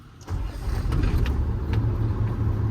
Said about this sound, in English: I'll go ahead and crank my vehicle